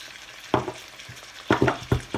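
Curry paste stir-fried in a pan, with a few short bursts of scraping and sizzling as the spatula stirs, close and fairly loud, separated by quiet gaps.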